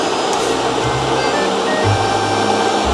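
Fan of a cheap homemade air conditioner running nearby, a loud steady whirring hum with low thumps and brief bumps from handling, no talking.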